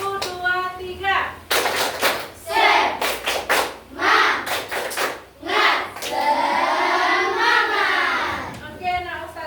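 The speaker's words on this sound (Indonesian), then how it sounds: "kita lakukan tepuk semangat" A group of children and a teacher perform a rhythmic tepuk semangat spirit clap in a classroom, sharp patterned bursts of clapping in loud sequences, mixed with chanting voices and a teacher's speech at the start and end.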